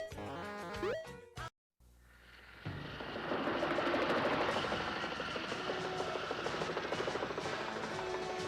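Helicopter from the Activision Chopper Command game for the Atari Video Computer System, a steady buzzing rotor drone with gunfire-like bursts that follows a short electronic jingle and a brief silence, loud and continuous.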